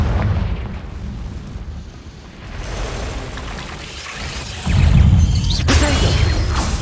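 A Confringo spell blast in Hogwarts Legacy lands as a deep, rumbling explosion that swells and then settles into a crackling roar, with a second heavy burst near the end, loud and with no talking.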